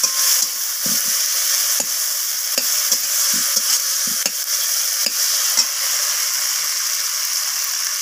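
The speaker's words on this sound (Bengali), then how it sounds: "টমেটোটাকে দিয়ে আমি তেলের সাথে এইভাবে ফোড়নের সাথে নাড়াচাড়া করে নিচ্ছি" Tomato stirred in hot oil with tempering spices for a winter bean, potato and cauliflower dish: a constant sizzling hiss of frying, broken by scraping knocks of the spoon against the pan at an irregular pace.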